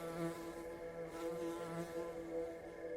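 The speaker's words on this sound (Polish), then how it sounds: "Jakaś pszczoła z wielkimi oczami." A big-eyed bee in the puzzle video game Luna The Shadow Dust, a steady, tonal buzzing hum that wavers slightly and plays continuously throughout.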